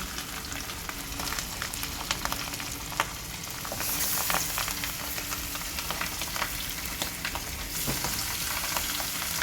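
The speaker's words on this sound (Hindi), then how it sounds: "जी ये फ्राई हो चुकी है, बाकी ये भी फ्राई करेंगे हम।" Fish frying in hot oil gives a dense, steady crackling sizzle with scattered sharp pops and spits, close and continuous throughout without any talking.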